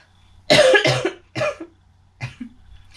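Several coughs in quick succession, three harsh bursts followed by a smaller one, close and fairly loud against near silence.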